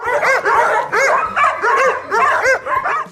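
Çatalburun, a rare Turkish hunting dog with a split nose, barks in a steady run of loud, close, sharp yaps and bow-wows, about six bursts with short gaps.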